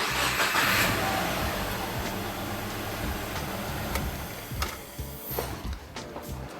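A car engine cranking and catching, a loud churning start that settles into a rough running idle with a few sharp clicks and knocks, close by.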